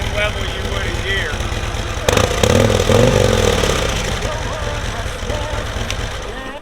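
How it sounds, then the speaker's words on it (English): A 2026 Harley-Davidson Police Road Glide engine idles with a deep rumble, then revs up in neutral and settles back, loud and close, with someone talking over it. "when you're in neutral, you can only rev this motorcycle up so far"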